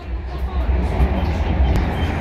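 Steady low rumble of an empty train carriage riding toward Kårsta, a continuous droning hum with faint rattles throughout, fairly loud and close.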